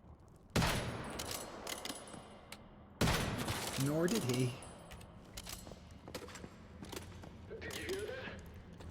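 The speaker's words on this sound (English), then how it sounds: "my gunfire as I murdered your coworkers" Gunfire in the video game Once Human: sharp bursts of shots with jangling, mechanical game sounds, separated by quieter gaps, while someone speaks briefly.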